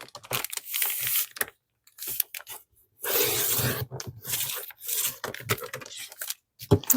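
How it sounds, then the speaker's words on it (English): Cardboard packaging being cut, heard as close, rough tearing and crinkling bursts separated by short pauses, with occasional brief scraping. "Why isn't that cutting? I just cut cardboard with it."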